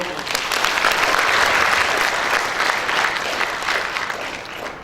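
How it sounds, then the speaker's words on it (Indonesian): A graduation ceremony crowd gives sustained, dense applause for graduates from Ambon, a steady wash of clapping from many hands that fades slightly toward the end. "Tepuk tangan untuk Ambon."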